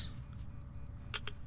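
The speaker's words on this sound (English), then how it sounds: "What's beeping?" Beeping alarm in the video game Metro Exodus: a run of evenly spaced, shrill electronic beeps over a low background rumble, with a couple of brief clicks near the end.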